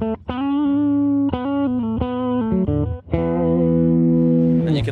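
Electric guitar through the compression side of a Fender compressor/distortion pedal, clean plucked notes and chords with smooth, long sustain, ending on a held ringing chord, with no talking.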